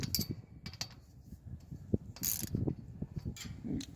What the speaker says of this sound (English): But I got a ratchet to make it a little quicker.